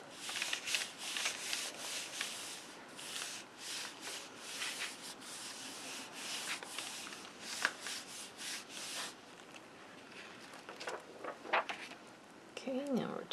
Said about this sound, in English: Without moving that, I'm going to give that a really good rub.